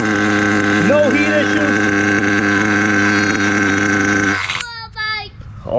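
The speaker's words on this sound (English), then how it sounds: "Running great, motor is good" An HPI Savage 21 nitro RC car engine idles loudly and steadily up close for about four and a half seconds, then shuts off, leaving voices talking.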